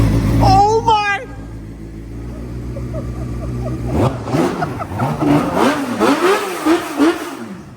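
A four-cylinder motorcycle engine fitted in an ATV screams and winds up in rising bursts, with a voice chattering nearby partway through.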